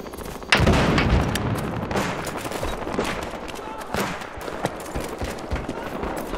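Gunfire and a grenade explosion in the video game Battlefield Hardline: a sharp loud blast, then dense rattling bursts of shots that continue steadily throughout, with voices shouting over the combat.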